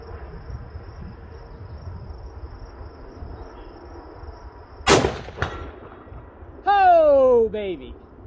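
A single loud Mosin rifle shot cracks outdoors, followed by a brief echo and then a rising whistling ring from the target. Faint background noise surrounds it.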